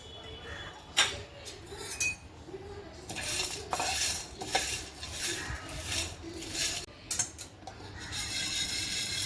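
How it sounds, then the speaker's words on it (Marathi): Whole garam masala spices dry roasted in a pan without oil, shifting with a dry rattle and metallic scrapes and clinks as they are stirred. The stirring comes in repeated close strokes over a low background, with no talk. "गरम मसाले भाजून घेऊयात आपण"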